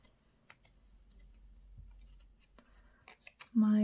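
Blunt scissors snipping through a sheet of craft paper from a 6x6 pad, giving a few quiet, scattered cuts before a brief louder rustle near the end; no talk over it.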